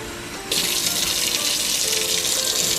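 Cold water gushes from a kitchen tap into a measuring cup for making Thanksgiving gravy, starting abruptly after a brief quiet moment and then running as a steady, close hiss with no talking.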